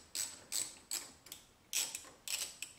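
A 10 mm socket wrench ratchets on a car battery terminal in a C8 Corvette, giving six quick, close clicking bursts in short spurts with small pauses between them.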